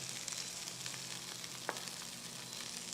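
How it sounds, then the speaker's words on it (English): Steady, close sizzling of bell peppers frying in a hot pan, with a faint clink midway and no talking. "Now this pan is hot. To this pan I am going to literally just add my bell peppers."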